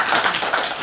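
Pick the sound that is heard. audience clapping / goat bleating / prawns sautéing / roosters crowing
audience clapping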